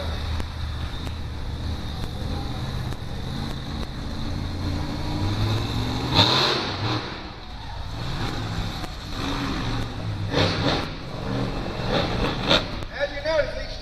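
Pulling trucks at the Carlisle Truck Nationals in Pennsylvania drive a pass, a continuous engine roar that swells and fades across the track under an announcer speaking over a public address system.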